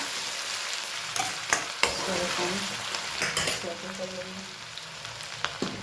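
Cumin, green chilies, curry leaves and peanuts sizzle steadily in hot oil in a pan, with occasional sharp clinks and scrapes of a spoon stirring over the continuous frying hiss.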